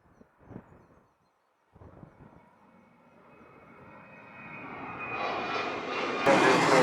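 A Southwest airliner on its takeoff roll from runway 7 builds from a faint distant whine into a swelling roar of engines that grows steadily louder toward the end, with light wind noise on the microphone.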